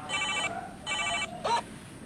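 A telephone rings in three short electronic bursts, the first two longer and the last one brief, close and fairly loud with no talk over it.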